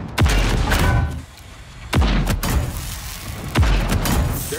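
Artillery fire support in the video game Project Cold War: three heavy booming impacts land roughly two seconds apart, each a loud, close blast that rumbles and decays into the next, with no talking over them.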